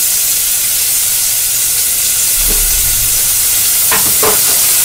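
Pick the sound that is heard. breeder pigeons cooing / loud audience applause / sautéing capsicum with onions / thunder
sautéing capsicum with onions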